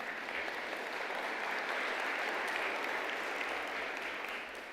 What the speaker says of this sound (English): Another round of applause for that very, very, very sober message.